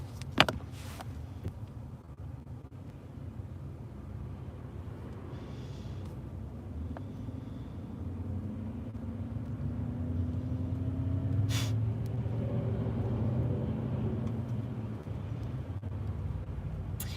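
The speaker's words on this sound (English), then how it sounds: "I'm in traffic." Muffled road traffic from inside a car, a quiet steady rumble of engines with a few faint clicks and a brief whoosh, no voices.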